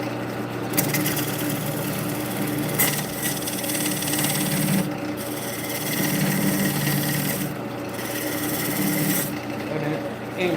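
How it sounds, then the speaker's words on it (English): A wood lathe spins at reduced speed while a tool cuts end grain, producing a continuous scraping, rasping hum with rhythmic swells and brief dips as the cut pauses and resumes. "Turn the speed down just a little bit because we are cutting the end grain."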